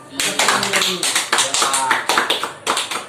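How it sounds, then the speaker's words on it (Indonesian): A classroom group claps in a fast, rhythmic pattern of sharp hand claps, close and loud, with short pauses between bursts over about three seconds. "Sekali lagi tepuk tangan."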